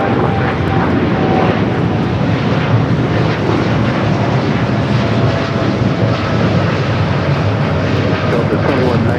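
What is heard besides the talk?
Southwest airliner taking off from LAX runway 24 left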